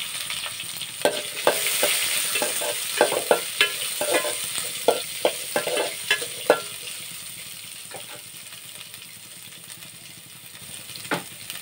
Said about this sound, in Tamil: அடுத்தது பொரிய நறுக்கின பெரிய வெங்காயம் ரெண்டு.